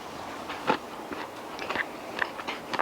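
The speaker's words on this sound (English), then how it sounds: "Got a nice crunch." Several crisp crunchy bites into fried General Tso chicken, sharp close snaps at irregular intervals followed by softer chewing, with no talking.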